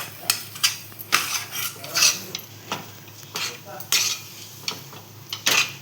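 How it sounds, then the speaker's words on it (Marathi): A spoon scrapes and clinks against a metal pan as it stirs a homemade barfi mixture of flour, ghee and almonds, giving repeated sharp strokes at a steady rhythm, close up with no voices. "त्याला पुन्हा एकदा ढवळून घेऊया."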